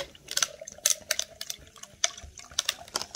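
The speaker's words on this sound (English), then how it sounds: "Let's pour it on some ice." Burst banana soda poured over ice into a cup, heard as a run of short crackling, splashing bursts and clinks close by, with no talking.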